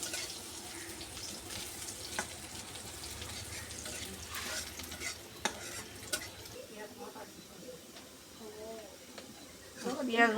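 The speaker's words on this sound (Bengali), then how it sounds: "পেঁয়াজ মরিচটা লাল লাল করে ভাজা নিছি।" Onion and dried chili fry in a pan with a soft, continuous sizzle under scattered clinks of stirring, fairly quiet and close, with a few louder scrapes near the end.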